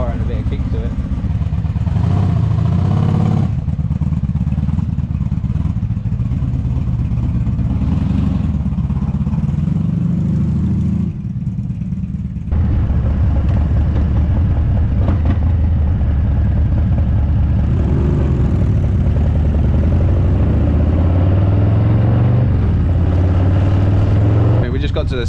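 A Honda Magna cruiser motorcycle with a 750 VFR sport-bike engine drones loudly and continuously while being ridden, with its pitch rising and falling through gear changes and wind noise, and people talking over the engine.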